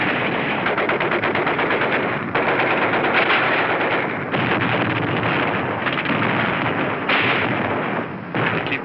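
A 1945 Iwo Jima battle scene with a mortar barrage and machine gun fire, rapid loud bursts of automatic gunfire mixed with dull thuds, continuous and dense throughout with no voices.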